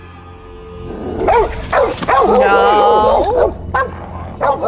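Dogs bark loudly from a TV drama episode heard through speakers, a run of sharp yips and whimpering barks up close, with a viewer's voice speaking over them.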